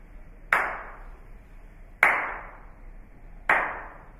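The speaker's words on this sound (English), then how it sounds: "I'm going to go somewhere and clap." A single person claps sharply three times in a room, spaced about a second and a half apart. Each clap rings out briefly in the room's reverberation, against otherwise near silence.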